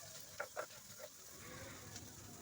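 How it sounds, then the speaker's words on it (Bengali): Water lily stems frying in a pan in a home kitchen give off a soft, steady sizzle, with a few brief clatters early on and no voices. "আমার শাপলাগুলো ওদিকে ভাজা হচ্ছে"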